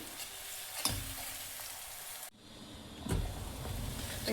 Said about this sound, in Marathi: आता मी टाकत आहे अद्रक, लसूण आणि कोथिंबीरची पेस्ट, जी 1 चम्मच टाकली। हे सुद्धा तेलात होऊ द्यायचं।